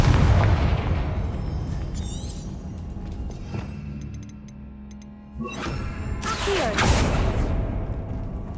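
A Confringo blasting spell explodes in the video game Hogwarts Legacy as a loud booming blast that rumbles and fades, then a second burst with whooshing debris.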